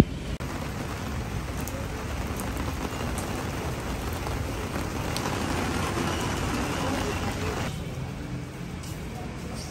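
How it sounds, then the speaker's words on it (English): Steady rain falls hard and continuously, a dense close hiss of drops on surfaces, with faint voices under it. "It's raining."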